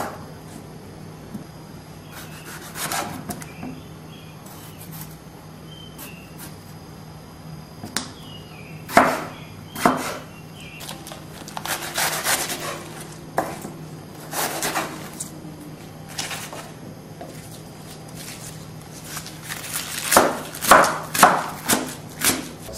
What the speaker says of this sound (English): The smaller you chop your potatoes, the faster they cook.